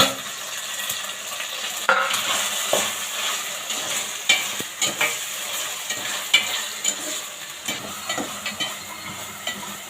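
Mint, coriander and tomato frying and being stirred in a pan for a home chicken curry, a close sizzle with irregular scraping and clinks of the spoon against the pan, no voices.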